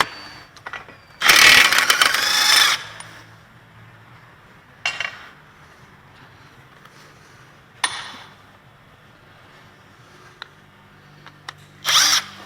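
A power tool, likely an impact gun with a 30mm 12-point splined socket, rattles loudly in one burst of about a second and a half while removing the front axle nut on a Toyota, followed by a few short mechanical clicks and knocks.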